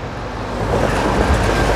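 Loud, continuous low rumble of a tram rolling past nearby on a street in Nordhausen, Germany, steady and rising slightly in intensity, with no talking.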